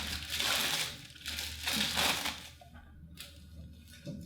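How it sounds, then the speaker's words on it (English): Tape being peeled off the plastic wrapping of a FabWash unit, close crinkling and tearing rustles in two loud bursts, then quieter sparse plastic crackles. "The top piece of tape, I'm gonna just peel away"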